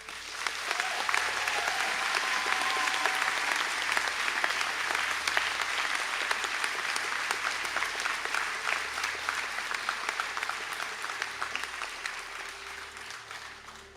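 A large audience applauds continuously and evenly for about fourteen seconds at the Sligo and St Angela's conferring ceremony, the steady clapping fading slightly toward the end.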